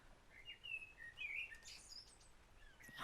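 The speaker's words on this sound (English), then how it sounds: "There's a blackbird just outside the shed right now." Blackbird chirping and warbling close by just outside a garden shed, a series of bright, varied whistled phrases over quiet background, with no talking.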